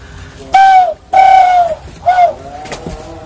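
Three whistled coos, the middle one longest, mimic a kukur dove's call to lure birds, each note sliding downward, loud and near.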